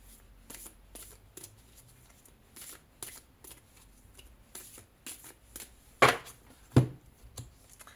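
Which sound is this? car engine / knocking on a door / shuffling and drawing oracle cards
shuffling and drawing oracle cards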